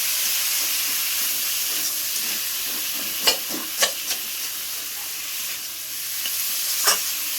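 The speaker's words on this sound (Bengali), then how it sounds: "আলুগুলো দিয়ে ভালো করে নাড়িয়ে নেব" Potatoes fry in a pan with a loud, steady hiss and sizzle. A few sharp scrapes and knocks of a spoon break through as they are stirred, close by and with no talk.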